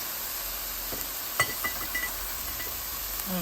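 Curried chickpeas sizzle in a pan while a spoon stirs them, a steady frying hiss broken by a few soft scrapes and clinks.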